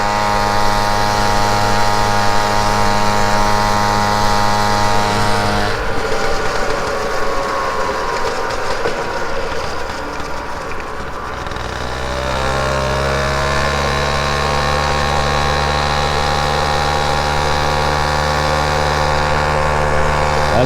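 A Motobecane 88 moped engine runs steadily and close, with a harmonic buzz that drops into a rougher, lower stretch midway before settling back to an even drone; the bike has no air filter on the carburettor.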